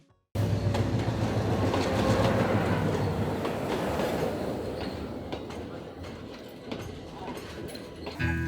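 Passenger train rolling along rails in Sri Lanka on the way to Nuwara Eliya, a steady loud rumble with faint rhythmic clatter that fades slightly toward the end, heard close from inside the carriage.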